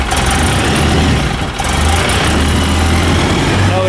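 Polaris Ranger UTV engine running in a garage after a front differential and wheel bearing repair, a loud, steady low rumble with a brief dip in the middle, some background noise, no clear speech.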